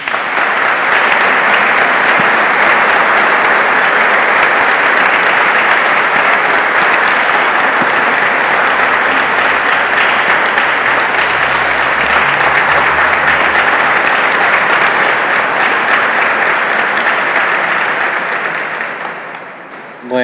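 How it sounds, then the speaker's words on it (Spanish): A congregation at a church gathering, held around a mass, breaks into strong, loud, sustained applause. Dense clapping holds steady for about twenty seconds and then fades briefly at the end. "antes de la bendición final podamos ofrecerle un muy fuerte aplauso"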